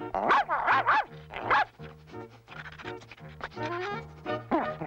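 Cartoon puppy barking eagerly on a scent in a Smurfs episode, a series of quick yapping barks over a bouncy bass music line.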